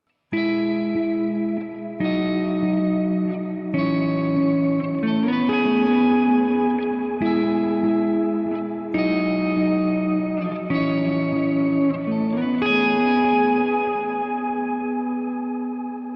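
An electric guitar plays sustained chords through an octave pedal adding a sub and upper octave, each strum ringing out with thick doubled tones and reverb, loud and clear with no talking.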